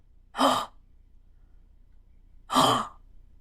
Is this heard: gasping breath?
yes